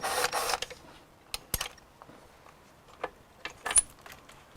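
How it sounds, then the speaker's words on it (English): A 10mm bolt is worked off a bracket on a 2.4L Honda engine bay with hand tools, faint sparse metallic clicks and ratchet ticks spaced irregularly over quiet background. "Now I'm going to take this 10mm bolt off this bracket"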